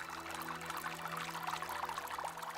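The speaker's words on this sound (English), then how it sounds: "the water sound of crying won't go away now" A steady pouring, splashing water sound from a character's crying taunt in a video game, continuous and fairly loud without pause, with a low hum underneath and no talking.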